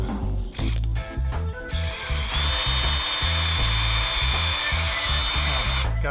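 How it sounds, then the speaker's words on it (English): A power drill whirs steadily while boring a hole through the top of a bamboo piece, a continuous loud motor whine with a pulsing low rumble throughout. "we're going to drill a hole in the top"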